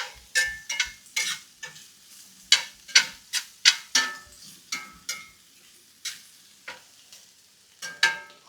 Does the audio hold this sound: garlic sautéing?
yes